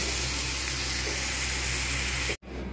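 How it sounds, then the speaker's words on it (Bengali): Kochu loti (taro stolons) frying in a pan, a loud continuous sizzling hiss that cuts off abruptly near the end, leaving quieter noise. "এটাকে ভালোভাবে একটু ভেজে নেব"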